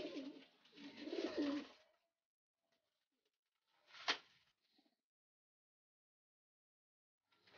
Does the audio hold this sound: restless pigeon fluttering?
yes